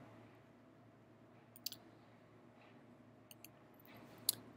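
Computer mouse clicks, a few sparse, quiet single clicks spaced irregularly over faint room noise.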